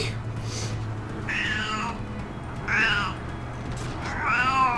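Real cat meows sound nearby, three distinct drawn-out meows spaced across the stretch over a low background hum from a Final Fantasy XI session.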